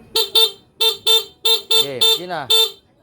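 A motorcycle horn honks in a quick series of about eight short, bright beeps, loud and close, with brief pauses between them.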